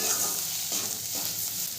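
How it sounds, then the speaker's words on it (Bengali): Ground cumin, coriander and turmeric are stirred in a hot pan for a ghugni, giving a brief, steady sizzle with soft scraping strokes and no voices. "গুঁড়ো মশলাগুলোকে দিয়ে ভালো করে মিশিয়ে নেব।"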